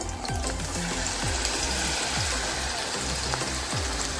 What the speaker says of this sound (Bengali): পাল্টে দিয়ে ভেজে নেওয়া হচ্ছে বড়াগুলো।